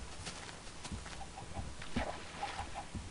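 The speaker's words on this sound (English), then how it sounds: "There's a chicken too." Minecraft chicken clucks come in a few short, soft calls spread over a quiet background, with no talk.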